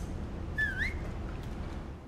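One short rising-and-falling whistle from a character in Mafia 3 sounds fairly faint over a low, rumbling game background. It comes once, early on, and then the whistling stops.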